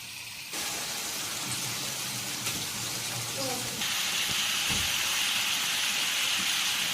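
Chicken seasoned with salt and chili sizzles in a hot pan, a loud steady hiss that runs throughout and brightens partway through.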